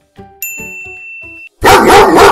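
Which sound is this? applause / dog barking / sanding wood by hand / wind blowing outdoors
dog barking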